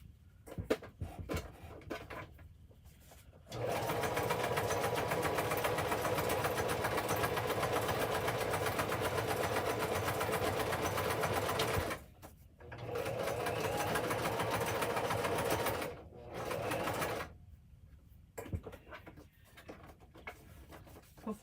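A home sewing machine runs a decorative stitch in two long steady bursts, a close continuous whirring with brief pauses between runs, after some handling noises.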